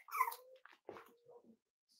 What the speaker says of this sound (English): This is Remy Dog wanting to be with puppies.